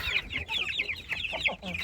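A flock of two-week-old chicks cheeps constantly, a dense chorus of high, rapid peeping from many birds close by, with soft low clucks underneath.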